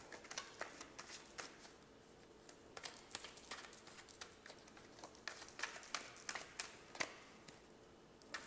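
A tarot card deck being shuffled, with rapid riffling and slapping bursts of cards repeating close up, quiet and unbroken, no talking.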